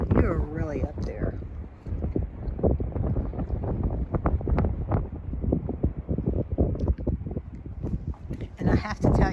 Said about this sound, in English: what is making it even more terrifying today is this wind. It's really gusting today